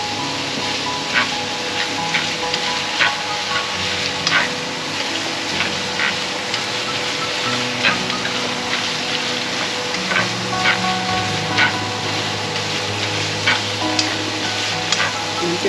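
Pork and shrimp stir-frying in a pan for spring roll filling, a loud continuous sizzle with regular clinks and scrapes of a spatula stirring throughout, close and unbroken by speech.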